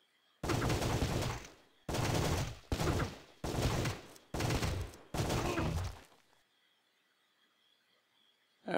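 Gunfire in the Windows shooter game Sure Shot rings out in six heavy, booming automatic bursts of steady length, then cuts off into near silence.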